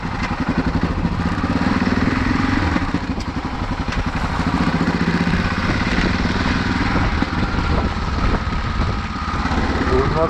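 An enduro motorcycle rides a loose gravel trail in the Antalya countryside, its engine putting steadily and loudly with rattling clatter, someone speaking over it.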